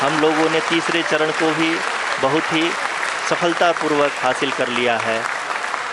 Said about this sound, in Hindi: आप तालियों के गड़गड़ाहट से सुन सकते हैं